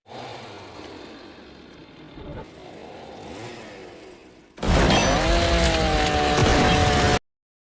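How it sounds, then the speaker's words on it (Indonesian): A loud, high-pitched motorized roar kicks in abruptly after several seconds of quieter rumbling, with sustained whining tones, like a chainsaw revving nearby. "Saat itu suara gergaji Leatherface kemudian terdengar di tempat lain"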